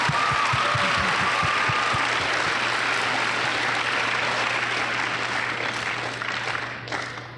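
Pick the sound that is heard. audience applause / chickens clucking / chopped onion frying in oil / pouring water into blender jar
audience applause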